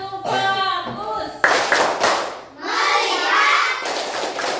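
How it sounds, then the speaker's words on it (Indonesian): A Year 4 class of children claps hands together in an Indonesian classroom, with short bursts of group clapping breaking between a teacher's spoken instructions and children's voices. "tepuk tangan sekali lagi biar semangat, biar lebih semangat lagi ya"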